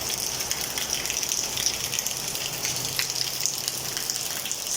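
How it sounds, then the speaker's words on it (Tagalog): Heavy rain pours down in Leyte, Philippines, a dense, continuous hiss with scattered splashes and drips, steady and fairly close, with no voices. "So the weather now here in Leyte are experiencing a heavy rainfalls."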